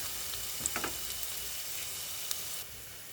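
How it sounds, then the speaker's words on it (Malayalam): Onions sautéing in a pan for a spinach thoran, a steady soft sizzle of frying close by with a few faint clicks of stirring, no voices. "ഇത് സവാളയാണ് സവാള കുറച്ച് നേരം കിടന്ന് വഴലിട്ട്"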